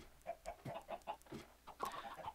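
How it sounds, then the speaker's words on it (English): Chickens in the Minecraft video game clucking in a quick series of short, faint, close calls with no talking. "So let me go get some chickens"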